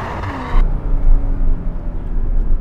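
A Porsche Cayman with two people aboard launches hard from standstill off the brake and throttle, with no launch control. A loud, steady engine roar and road rumble build from inside the cabin.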